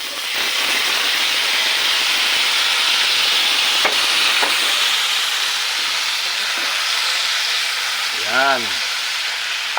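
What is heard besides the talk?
seared meat for adobo sizzling as it is added to pan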